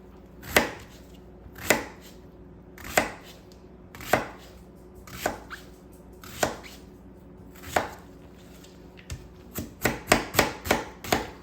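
Half an onion is chopped with a knife on a board, about eight evenly spaced firm chops that quicken into a rapid cluster of cuts near the end, close and clear without speech.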